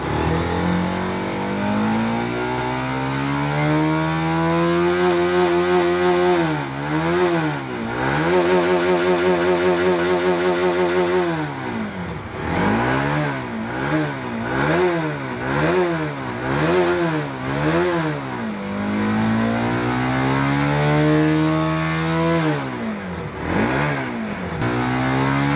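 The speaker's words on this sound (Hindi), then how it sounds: "और यहाँ हम पिकअप देंगे।" A Bajaj Pulsar 200 motorcycle engine is revved repeatedly by hand during a battery charging check, rising and falling in quick throttle blips over a steady idle, loud and close with no talk.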